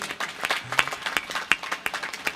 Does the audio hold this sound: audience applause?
yes